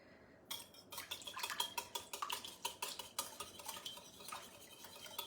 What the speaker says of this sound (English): we're just really whisking that in just to get that incorporated